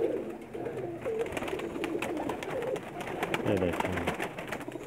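Pigeons coo steadily from a rooftop loft in a Pakistani village, soft throaty calls repeating close by while someone talks over them.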